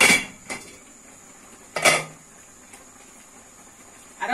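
A leaf-wrapped package of Bakossi black soup mixture is set back into a taro cooking pot, giving a couple of short clattering knocks of pot and utensil with quiet gaps between, close and moderately loud.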